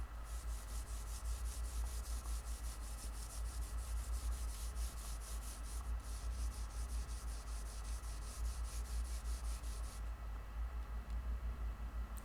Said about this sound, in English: After the diamond file, I'll use the maroon Scotch-Brite pad.